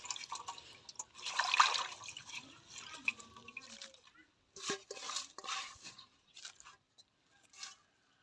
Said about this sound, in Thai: วันนี้ก็มาล้างยานางเนาะพี่น้อง